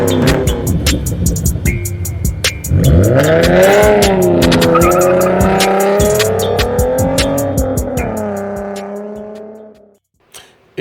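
Audi R8 Spyder pulling away hard, engine revving loudly through rising gear pulls with tire squeal and skid, then fading into the distance.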